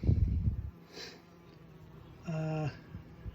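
A wild honeybee swarm in a swarm box gives off short bursts of buzzing, with a brief hum and then a louder, steadier drone passing near, separated by quiet gaps.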